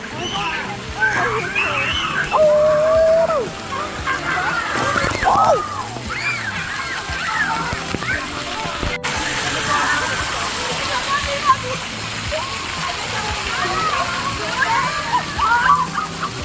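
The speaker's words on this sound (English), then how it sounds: "put him through the sprinkler thing over here" Water sprays and splashes from a splash pad sprinkler at a park, a constant rushing hiss with bright splatter, while children and adults shout and talk over it.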